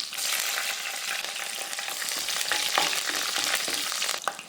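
Cumin seeds, curry leaves and green chillies crackle and sizzle steadily in hot oil in a pan, a dense continuous frying hiss with small pops and a brief sharper spatter near the end.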